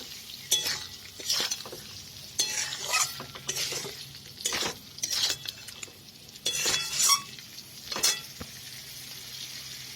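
Green plantain and potato stir-fried in a pan, a spatula scraping and clattering against the metal in irregular bursts over a steady low sizzle, close and fairly loud, with no voices.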